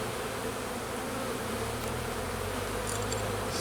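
Honey bees buzz inside an opened hive during a spring inspection, a dense continuous hum filling the space up close and steady throughout, with no talking.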